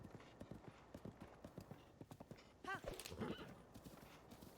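A horse in Zelda: Breath of the Wild clip-clops at a steady walking pace, hooves clopping rhythmically, then gives a short whinny and snort partway through before the hoofbeats continue.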